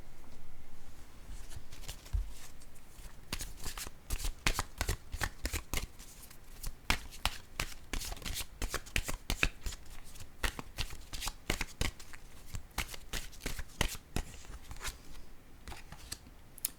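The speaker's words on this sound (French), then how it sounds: "Je vais piger une carte, un message de l'univers." A deck of oracle cards being shuffled, with a long run of crisp riffling and slapping card noises, close and fairly loud, continuing steadily without speech.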